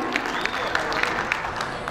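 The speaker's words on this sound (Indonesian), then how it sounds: "Boleh kita berikan tepuk tangan?" Audience applause at a media gathering and focus group discussion closing in Malang, a steady wash of clapping with scattered louder claps, fairly close and continuous.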